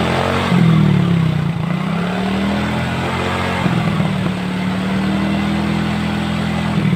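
A Yamaha Mio J scooter engine that is smoking and prone to stalling runs close by at a steady idle, with a short rev near the start and another gentler rise midway.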